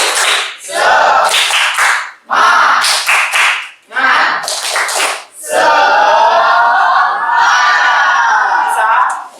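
A class performs a rhythmic spirit clapping chant, bursts of group clapping and shouting broken by short pauses, then a sustained loud shout of children's voices.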